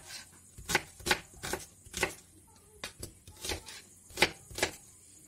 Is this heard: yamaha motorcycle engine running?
no